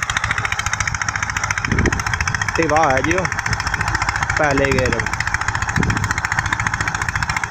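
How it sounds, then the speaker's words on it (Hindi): An Eicher tractor engine runs with no load, a steady close mechanical chug that carries on throughout while someone talks over it in short bursts. "अब देखो बिल्कुल फ्री आ रहा, कोई लोड नहीं ट्रैक्टर पर"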